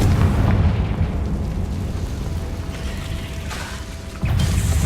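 Confringo fire spell bursting in Hogwarts Legacy on PS5: a loud, dense boom-heavy rumble that slowly fades, then a second blast strikes near the end, with no talking.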